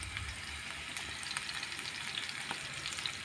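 Onions frying in a pan for jollof rice, a quiet, steady sizzle with scattered small crackles and pops running continuously, with no voices.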